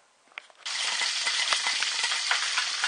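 Stuffed bell peppers sizzle in hot oil as they are partially fried, starting with a few soft clicks before a sudden burst of dense, steady crackling and popping up close.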